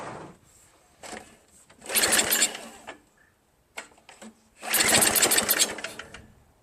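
A Craftsman 5HP 24-inch dual-stage snow blower fitted with a new carburetor catches and revs in two loud, close, rattling bursts of a second or two each, separated by quieter gaps.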